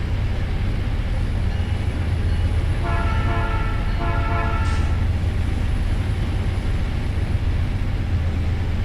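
A diesel locomotive horn in the Trainz railway simulator sounds one sustained, loud blast of about two seconds over a steady low engine rumble.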